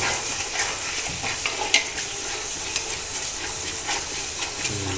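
Green chilli pickle fries in a pan while a spoon stirs it, giving a steady close sizzle and hiss with intermittent scraping strokes against the pan.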